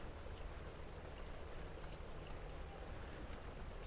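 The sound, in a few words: rain falling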